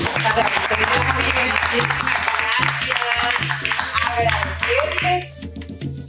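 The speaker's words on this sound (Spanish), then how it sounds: "Muchas gracias, un aplauso para ustedes." Loud crowd applause with cheering and a rhythmic musical beat underneath, fading out near the end as the clapping dies down.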